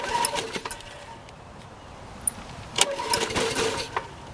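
Toro 22-inch Recycler lawn mower, model 20666, being cold started, its small engine sputtering and catching in uneven bursts, close and moderately loud, with no voices.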